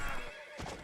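A horse neighs in a video game as a cavalry unit goes down, a short whinny over hoof clatter, fairly close and alone.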